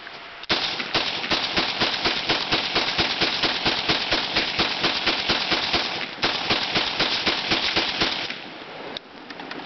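An AK-47 in 7.62 with a collapsible buttstock fires from the hip at Gardener Ridge, loud close shots in rapid, steady strings that run almost continuously with a short break midway.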